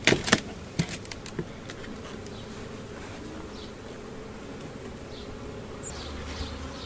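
Honeybees buzzing around an opened hive during an inspection, a steady close drone with a few knocks of handled equipment at the start and individual bees passing near.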